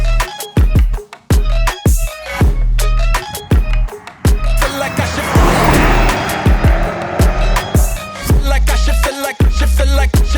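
A BMW M5 Touring drives along a narrow road, its engine loud and close with repeated revving surges and gear changes, tyres and exhaust roaring in bursts.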